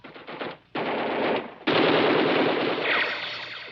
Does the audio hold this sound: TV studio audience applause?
no